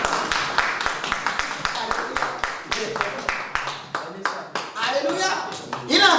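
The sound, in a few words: congregation applauding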